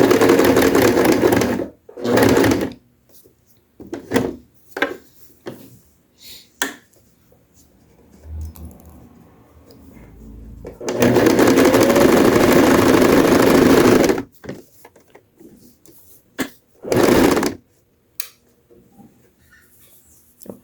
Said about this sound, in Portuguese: uma costura reta